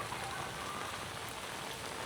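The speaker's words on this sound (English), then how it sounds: "So this is actually a good thing, I think, that it rains." Steady rain falls on a wet day in Da Nang, a soft, continuous hiss of drops on surfaces, fairly faint and even, with no voices.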